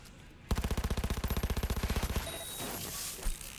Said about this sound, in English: Where are you shooting at us from?